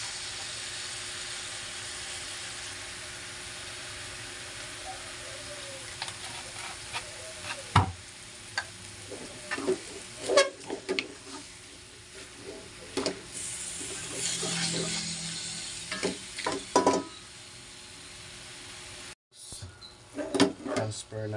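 Fish sauce (patis) sizzling as it is sautéed in a pan while cooking Kapampangan batchoy, a steady frying hiss with scattered clinks and stirring knocks, and a voice speaking now and then.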